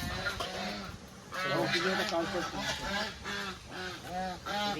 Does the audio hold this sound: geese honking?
yes